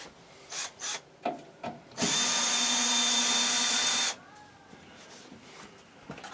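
A power drill whirs steadily for about two seconds while backing screws out of the bracket joining a stacked Splendide RV washer and dryer, framed by short scraping and handling knocks before and after.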